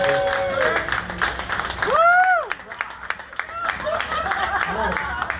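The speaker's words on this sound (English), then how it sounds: "Let's give another round of applause to Mr. Greg Goldstein" Audience at a nonprofit's annual event applauding the board chair, a steady patter of many hands through the room, with cheering and talk over the clapping.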